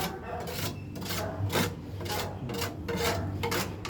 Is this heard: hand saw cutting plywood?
yes